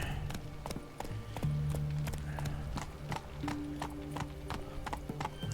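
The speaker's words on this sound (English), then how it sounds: "I'm riding into town like a cowboy coming into town in the west." Horse hooves clip-clop steadily as the rider heads into town in the Witcher 3 video game, a brisk, close, regular rhythm of hoof strikes over a continuous background bed.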